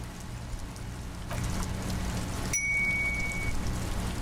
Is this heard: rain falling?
yes